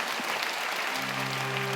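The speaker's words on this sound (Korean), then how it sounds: "우리 박수로 하나님께 영광 돌리겠습니다." A church congregation at a prayer meeting claps together in a dense, lively round of applause, and a low sustained organ or keyboard tone enters partway through.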